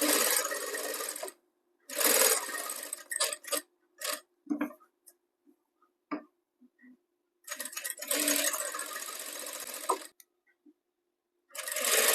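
A sewing machine stitches a blouse sleeve, running in loud steady whirring bursts that start and stop repeatedly, with short clicks and near silence between the longer runs.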